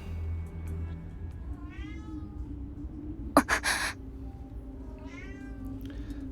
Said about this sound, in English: Oh, my cat has spotted a bug.